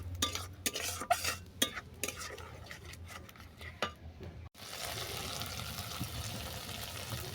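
Spice paste being stirred and fried in oil for a sesame-prawn dish, with a spoon scraping and clinking against the pan in irregular strokes over a low sizzle, then a steadier, denser frying hiss after a brief cut.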